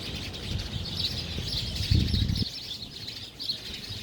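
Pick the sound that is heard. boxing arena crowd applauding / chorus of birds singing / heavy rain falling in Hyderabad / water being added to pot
chorus of birds singing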